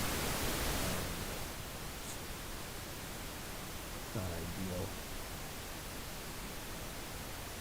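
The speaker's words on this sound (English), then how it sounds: "So here's the pink noise signal coming out." Steady broadband hiss of pink noise runs throughout, with a brief spoken remark near the start and a short murmur midway.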